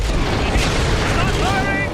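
Booming gunfire and explosions from the video game Fable 3 rumble steadily and loudly through the whole stretch, a dense continuous barrage with voices shouting underneath.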